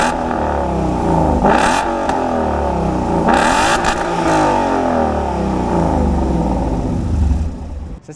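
A 2017 Ford Mustang GT with the 5.0 Coyote dual overhead cam V8, manual, running steadily loud and close for about eight seconds with a couple of brief revs and no talk, cutting off at the end.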